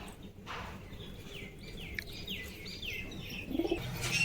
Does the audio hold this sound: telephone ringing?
no